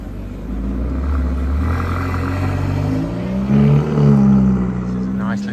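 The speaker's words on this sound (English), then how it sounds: "You'll have to excuse the traffic noise because we're sat out on the terrace." Road traffic rumbles past a restaurant terrace in Paphos, Cyprus, a low continuous drone that swells as a vehicle goes by, heard beneath someone talking.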